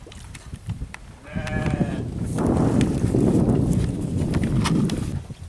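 Goats kept in a pen on a riverbank give a couple of bleats partway through, heard over a louder, continuous rushing wash of outdoor noise.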